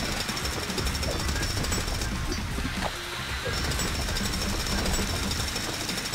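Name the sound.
jackhammer drilling in video game Lego City Undercover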